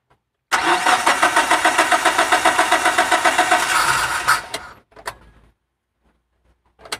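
A car engine starts after being opened up for repair of stalling when revved, cranking with a rapid rhythmic chugging for about four seconds, then stopping abruptly, followed by a few faint clunks.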